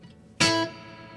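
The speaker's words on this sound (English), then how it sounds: "The reverb sounds like this." A single sustained instrument note or chord with reverb applied, struck sharply and ringing with a long smooth tail that fades gradually, heard alone and fairly close.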